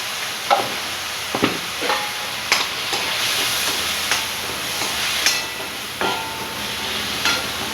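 Onion frying for chole: a continuous close sizzle and hiss from the pan, broken by regular stirring scrapes. No voices.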